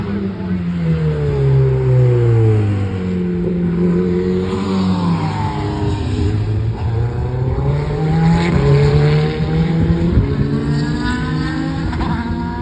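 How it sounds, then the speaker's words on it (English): A Ferrari 488 Challenge Evolution race car engine screams at high revs on a track, rising and falling through gear changes as it accelerates and passes, loud and continuous throughout. "Not much beats the sound of a Ferrari 488 Challenge Evolution car"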